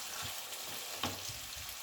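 Potatoes and onions frying together in a pan for an aloo soya methi sabzi, a steady broadband sizzle with a few soft stirring scrapes, close and moderately quiet, no talking.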